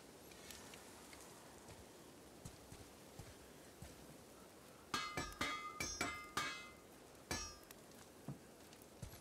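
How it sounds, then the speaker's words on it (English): Metal is hammered faintly in the background behind God of War gameplay sound: sharp ringing clanks come first in a sparse scatter, then in a quick cluster of five or six strikes, then a few more spaced blows. "someone is hammering a weapon in the background"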